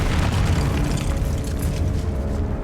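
A Confringo blasting spell goes off in Hogwarts Legacy, a loud, deep boom that rumbles and crackles for a couple of seconds before slowly thinning out.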